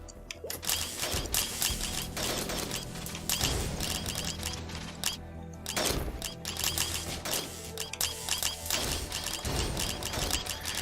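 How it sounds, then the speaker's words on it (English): Rapid-fire gunshots from the Risk of Rain video game, a fast dense clatter of sharp shots in bursts with brief pauses, alongside game effects. "The cool thing about that rapid fire mode is it can actually shoot in like pretty much all directions."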